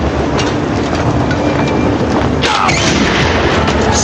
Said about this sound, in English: if everything goes well, they'll trigger the tripwire bomb